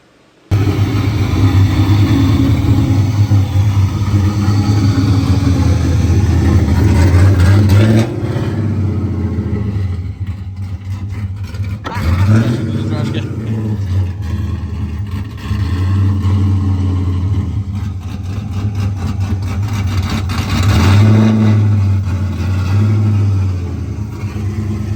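A Nissan S13 engine idling and revving up close, a loud continuous rumble that rises and falls through several throttle blips and climbs over about twenty-five seconds, with no talking.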